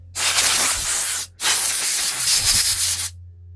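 Compressed air blasts metal shavings off a connecting rod bushing being reamed on an Iron Head engine top end, two loud steady hissing bursts with a brief gap between them, close up and with no talk.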